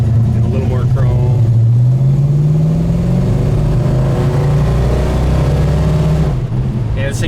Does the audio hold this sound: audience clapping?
no